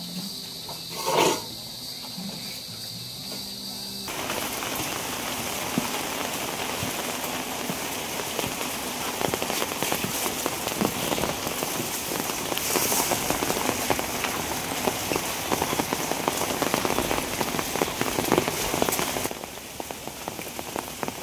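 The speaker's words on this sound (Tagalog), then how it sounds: "Biglang bumuhos yung ulan, kakatapos lang po namin kumain." Sudden heavy rain pours down in the Philippine countryside, a dense steady roar of downpour that jumps in abruptly after a few seconds of quieter background and stays loud and continuous, with no talking.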